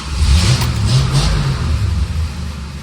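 A 1965 Dodge Dart convertible's Slant Six engine, recently flooded, revs loud and close, a rough, surging roar held for about three seconds without a break.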